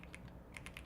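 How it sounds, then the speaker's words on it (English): Keyboard typing in a coding session: a few soft, quiet key taps in an irregular rhythm, spaced apart over a low room hum. "I'll say sometimes when I'm typing"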